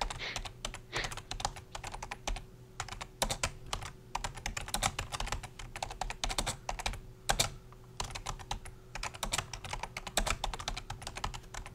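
Rapid, uneven keystrokes clatter on a computer keyboard close to the microphone, bursts of typing with brief pauses over a faint steady hum, no voices.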